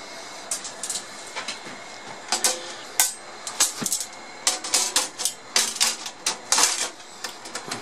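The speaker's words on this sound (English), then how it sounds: "I'm going to put the lid back on." The metal lid of a Collins 30S-1 RF amplifier being handled and set back in place, a series of close clanks, taps and rattles in irregular bursts, no voices.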